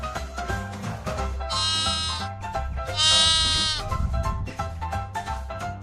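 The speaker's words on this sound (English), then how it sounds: "It's a sheep. A baby sheep is called a lamb." A sheep bleats twice in clear, loud, wavering cries close by, separated by a short pause, with no talking.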